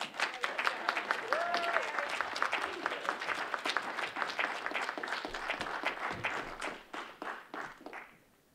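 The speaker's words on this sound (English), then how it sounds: "please give a rousing applaud for these representatives" A Prostate Cancer Awareness Day audience gives state representatives Jerry Cassidy and Claire Cronin a hearty, sustained round of clapping with distinct individual claps, tapering off at the end.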